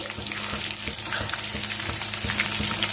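Tapioca pakkavada frying in hot oil gives a dense, continuous sizzle up close, with regular knocks and scrapes from a utensil stirring the pan throughout.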